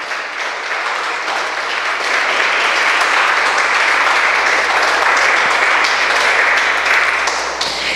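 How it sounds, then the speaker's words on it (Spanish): A church congregation gives loud, sustained applause to the Lord, a thick continuous roar of clapping that swells slightly and holds steady for several seconds, close and full, without speech. "denle otro aplauso al Señor"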